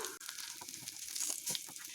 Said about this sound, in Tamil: இப்போ கத்திரிக்காயெல்லாம் நல்லா எண்ணெயில் பொரிஞ்சிடுச்சு.